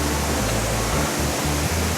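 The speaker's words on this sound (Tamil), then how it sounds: "இது போகும்போதே பார்த்தீங்கன்னா உங்களுக்கு ஃபால்ஸ் சவுண்டு கேட்குது." Kailasakona waterfall in Chittoor, Andhra Pradesh, heard as a dense, steady rush of falling water, loud and close, with no talk.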